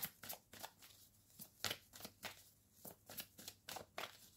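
Tarot cards shuffled by hand in quick, even riffles, a close, soft run of papery slaps and flutters repeating steadily with no talking.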